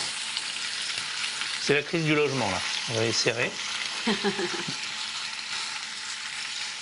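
Tomatoes browning in a hot pan give off a steady sizzle and crackle of frying that runs through the whole stretch, with a person speaking over it partway through.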